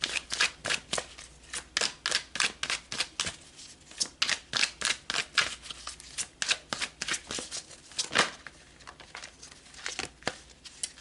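Tarot cards are shuffled close up in rapid bursts of crisp papery riffles and flicks, a quick irregular rhythm of snaps with no talking.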